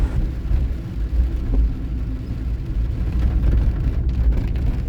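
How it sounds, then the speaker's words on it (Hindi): Constant rumbling drone of heavy rain drumming on a car roof near Murree, Pakistan, steady and loud throughout, blended with low engine hum and no voices. "यहाँ पर गाड़ी के ऊपर बारिश की साउंड चेक करें, उससे अंदाज़ा लगाएं कि बारिश कितनी तेज़ हो रही है"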